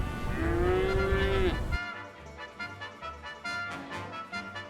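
Cattle on the open Kansas prairie: one long, loud, close moo with a gently bending pitch, followed by quieter rustling outdoor sounds.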